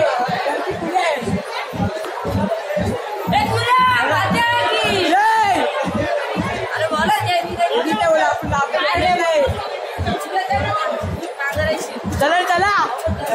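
Dense crowd chatter among temple-goers at Ekvira temple, many overlapping voices close by and loud, continuous throughout with occasional laughter.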